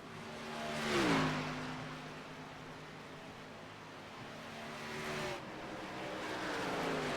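Race cars lap the track at Pocono, a steady distant engine drone with a louder pass swelling near the start and another smaller surge later, no voices over it.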